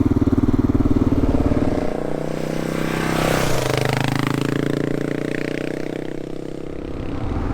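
A Kawasaki KLR 650 motorcycle riding down a dirt fire break, its single-cylinder engine droning loud and close with a steady rumble and shifting pitch as the throttle changes.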